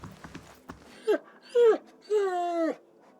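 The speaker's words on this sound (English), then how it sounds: "It looks up when you approach and whines a low note, tail wagging slightly." A hound in the fantasy video game Pillars of Eternity whines three times after a few soft thumps. Each low, wavering whine is longer than the one before, and the last is a drawn-out moan, all close and clear.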